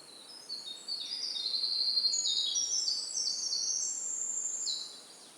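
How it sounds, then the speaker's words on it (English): Bird song at a bioacoustic monitoring site: a series of high, thin whistled phrases and trills, some rising and some falling, repeats over faint steady background hiss with no voices. "let's hear this bird from the same site as the bear"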